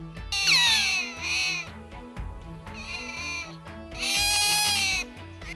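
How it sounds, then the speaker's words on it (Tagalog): High, bird-like chirps and squeaky calls from an Asian small-clawed otter repeat in bursts, close by over a low murmuring background. "Itsurang daga, pero kasing laki ng isang pusa at humuhuni na parang ibon."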